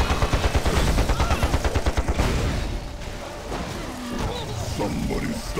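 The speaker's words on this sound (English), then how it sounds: "Vigrid coming in with a mortar." Rapid, rhythmic bursts of weapon fire and blasts from mortar combat in the Panzar online game tournament, loud and close for the first few seconds before giving way to a rumbling, busier mix of battle noise.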